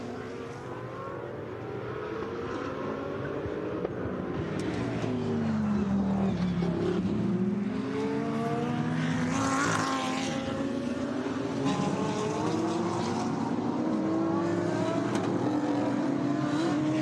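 Audi and Ferrari DTM touring race cars battle through a final corner, their engines droning steadily with rising and falling pitch as they pass, loud and continuous throughout.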